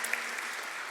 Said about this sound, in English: You can give him a clap, that's fine.